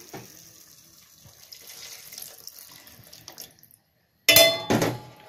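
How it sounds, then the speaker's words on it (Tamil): Tamarind water pours into a pan of frying yam curry, a short splashing gush near the end after quieter kitchen clatter. "இதோட புளி தண்ணி ஆட் பண்ணிடலாம்."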